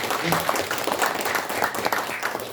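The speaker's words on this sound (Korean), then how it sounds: "감사의 박수 다시 한번 부탁드립니다." Ceremony audience applauding at a commemorative launch event, a dense, steady wash of clapping from a large crowd filling the whole stretch with a faint voice briefly underneath.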